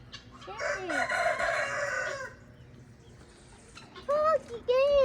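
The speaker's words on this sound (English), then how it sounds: "Oh, chicken." On a farm, a rooster crows loudly and close, then chickens cluck in short squawky bursts, with a voice speaking between.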